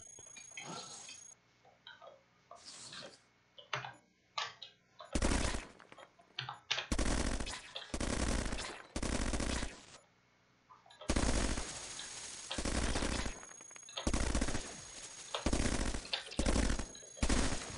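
Enemy enhanced autogun carriers fire automatic weapons in the robot roguelike Cogmind, with loud bursts of rapid gunfire coming in irregular clusters and short quiet gaps between volleys.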